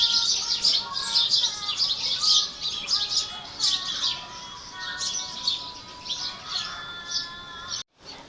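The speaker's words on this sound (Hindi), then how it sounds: "परिंदे भी बहुत ज़्यादा खुश हैं और काफ़ी ज़्यादा चहचहा रहे हैं" Many small birds chirp and tweet busily in a tree, a dense, bright chorus of overlapping calls going on throughout, close and fairly loud, with a brief dropout near the end.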